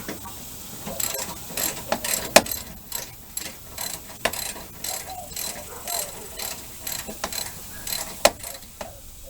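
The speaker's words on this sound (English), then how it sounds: "Now we can go ahead and snug these 10 millimeters down a little better." A ratchet clicks in repeated short bursts while snugging down 10 mm bolts on a Dodge Ram condenser. The ratcheting is close up, with a steady background hum and a few sharper metallic ticks.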